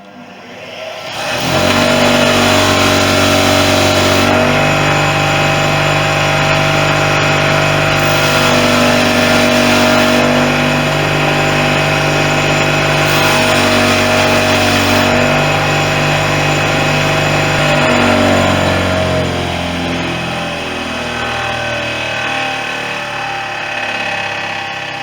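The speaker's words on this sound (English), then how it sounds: "just going to clean up the washers on the wire wheel here, just to get rid of some of the surface bits" A wire wheel spins as metal washers are pressed against it to scrub off surface grime, a loud steady motor whir with a continuous hum that runs unbroken for over twenty seconds, easing slightly near the end, with no talking.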